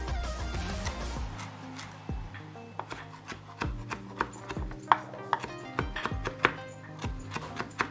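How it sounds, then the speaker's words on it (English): Knife finely chopping scotch bonnet peppers on a cutting board, a steady run of sharp, close taps that start slow and then quicken into a brisk irregular rhythm, with no talking. "So you want to chop these fine."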